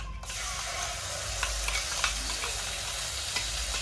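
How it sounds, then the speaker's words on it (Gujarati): Gravy for a paneer tikka dish hitting hot oil and being stirred, a loud, continuous close sizzle with occasional scraping from the stirring. "હવે આ ગ્રેવી નાખી દઈએ આપણે."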